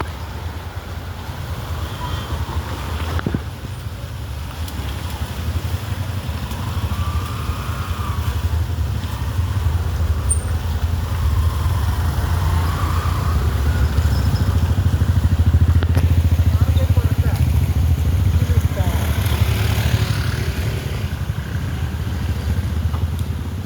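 Bikes riding over a potholed stretch of the Chamravattom national highway, a steady loud low engine and road rumble continuing throughout with no talk.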